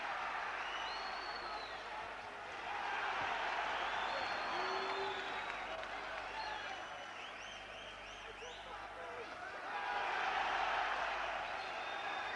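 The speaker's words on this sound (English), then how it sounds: "And the crowd loving it, of course, when Cowdell makes Daho miss." A boxing crowd at a British super featherweight title fight cheers and applauds in steady waves that swell and fade, heard at a distance with a commentator talking over it.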